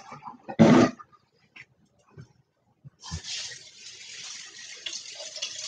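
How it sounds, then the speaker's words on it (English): Running water pours steadily from a tap into a colander for rinsing in the second half, following a brief splash and scattered small clatters near the start. "So, a colander, and I'm going to rinse."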